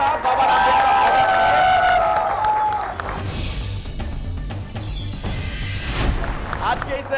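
A studio audience claps to welcome Baba Ramdev onto a television discussion stage, with a loud burst of applause at first, then fading into scattered claps as talk takes over.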